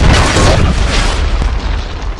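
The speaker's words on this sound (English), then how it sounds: "Friendly predator missile inbound" A predator missile blast in a shooter video game lands as one loud, deep boom, close and heavy, with a rumbling tail that slowly fades out.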